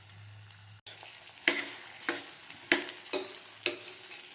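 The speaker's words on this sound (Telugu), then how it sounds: "కొద్దిగా ఇలా వేగినాక ఇప్పుడు మనము ఆలుగడ్డ వేసుకుందాం" Potatoes are tipped into a frying pan and stirred, with a brief hush as they land, then a rhythmic series of close scraping strokes and clacks over a gentle sizzle.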